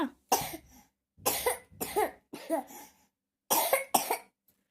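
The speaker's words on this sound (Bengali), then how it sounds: "কাশিটা কিছুতেই ভালো হচ্ছে না" A child coughs in repeated short bursts, several harsh coughs in clusters separated by brief silences, close by.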